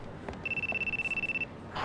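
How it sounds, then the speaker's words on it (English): A phone rings in Yakuza 2 with a single steady electronic trill, a fast warbling tone lasting about a second. It is fairly faint and stands alone over quiet game ambience. "So we get the phone call when we get close to Aoi"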